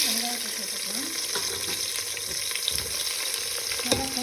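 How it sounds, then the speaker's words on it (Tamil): Whole spices fry lightly in oil over a low flame for a veg biryani, making a quiet, even sizzle broken by a couple of faint clinks. "லோ ஃப்ளேமில் வச்சு கொஞ்சம் லைட்டாக பொரிய விடுங்க அப்போ நம்மளுக்கு எண்ணெயில் அந்த மசாலாலாம் நல்ல வாசனை வரும்"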